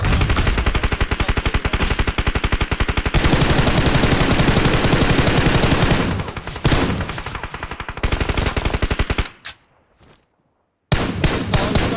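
Rapid automatic gunfire in a ranked online shooter match, loud and dense bursts that run continuously, pause briefly, then resume, with a short near-silent gap near the end.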